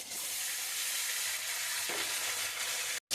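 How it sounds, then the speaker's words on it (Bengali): Parshe fish frying in hot oil, a dense, steady hiss of sizzling close up with a brief scrape of stirring, cutting out momentarily near the end, no talking. "এবার আমি মাছটা ছাড়লাম, আমি অল্প অল্প করে মাছ ছেড়ে ভাজবো।"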